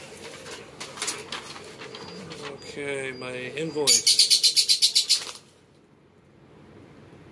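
Pigeon cooing and small birds chirping nearby during a radio unboxing, with a burst of rapid, evenly pulsed calls lasting about a second before fading. Someone speaks briefly over the bird sounds.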